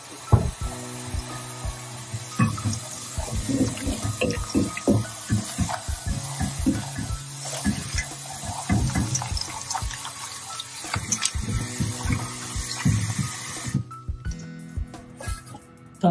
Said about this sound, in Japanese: パスタ上がりましたので、 これをね、水で洗うんですよ。